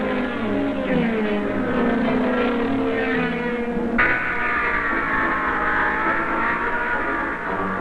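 Racing cars lap a 230-mile, 100-lap road circuit, engines droning loudly and continuously with rising and falling pitch as they pass, one note dropping abruptly midway.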